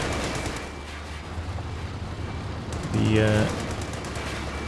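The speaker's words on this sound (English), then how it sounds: "this Vickers is making short work of these Rakittens" A Vickers machine gun fires in Company of Heroes 2, steady rattling bursts beneath a commentator's voice over battlefield noise.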